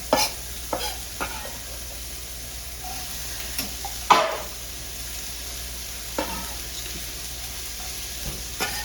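Onion sizzling as it is dropped into hot olive oil, a steady crackling frying hiss broken by a few sharp stirring clatters, close and moderately loud with no talking.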